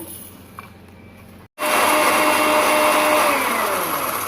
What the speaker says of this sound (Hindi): ये ग्राइंड हो रहा है निहारी मसाला